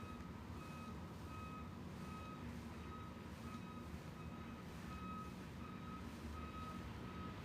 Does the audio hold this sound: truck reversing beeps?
yes